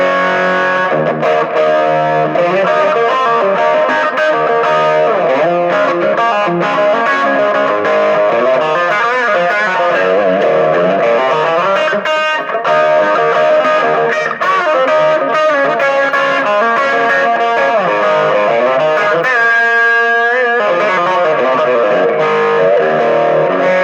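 An electric guitar played through stacked overdrive pedals into a COOLMUSIC 50-watt amp gives a loud, thick distorted tone, with continuous chords and riffs throughout and a brief bright trill near the end, no talk.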